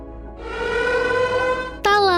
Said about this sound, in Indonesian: bunyi sirine pun terdengar di tempat perlombaan